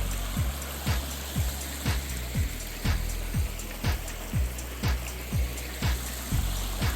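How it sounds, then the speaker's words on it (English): A creek runs steadily into a lake beside a deck, giving a constant broadband rush of moving water, with a regular low thudding repeating about twice a second throughout. "Just sit here and listen to the creek flow."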